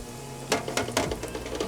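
Catfish frying in hot oil: a steady sizzle with several sharp crackling pops as pieces drop in and spit, close and fairly loud.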